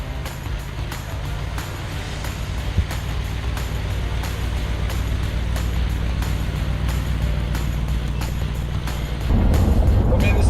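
A car taken out for a drive gives a steady, close engine and road rumble throughout, swelling noticeably louder near the end as it picks up speed, with no speech.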